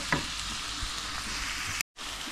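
Onions frying in oil for a green curry, giving a dense, steady sizzle close by that cuts out briefly near the end.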